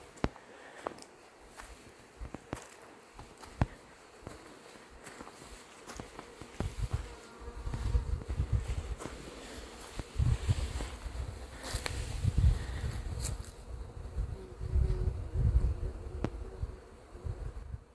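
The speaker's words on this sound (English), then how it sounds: "The bees are out all over. They're all over the cherries and the pears." Bees buzzing around blooming cherry and pear trees in spring, a steady faint hum with louder passes as insects fly near, scattered soft rustles and ticks, no talk.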